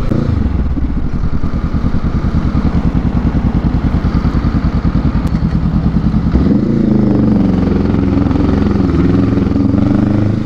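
Honda Rebel motorcycles ride together in a motorcade, their engines loud and close with a rapid pulsing throb, then a passing rider's revving rises and shifts partway through, with no talk.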